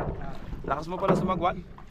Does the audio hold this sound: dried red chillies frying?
no